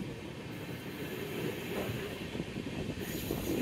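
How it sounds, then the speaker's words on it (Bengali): Inside the Sealdah–Jalpaiguri Road Humsafar Express (13115) as it runs: a steady rumble of wheels on the rails with faint rhythmic clatter, heard throughout and growing slightly louder, with no talking. "তো আলুয়াবাড়ি রোড থেকে কিন্তু ছাড়লো আমাদের ট্রেন"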